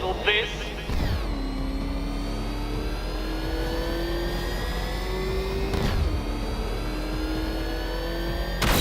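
Batmobile engine in the Batman: Arkham Knight video game, a loud continuous revving drone with rising whines and brief surges, steady throughout and heard alone without talk.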